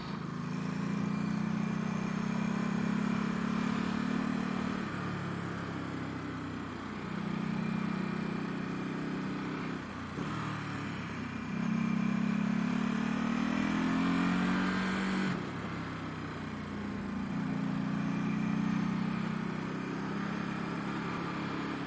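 Steady engine drone from a twin-engine motorcycle on the move along a Japanese mountain pass road, its pitch rising and falling in long cycles as the rider shifts, with constant wind rush.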